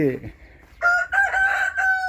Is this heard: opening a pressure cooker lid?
no